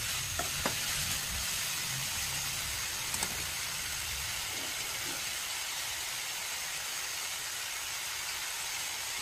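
Fish frying in hot oil gives off a steady, dense sizzle with faint crackles and pops throughout, close by and continuous with no talking.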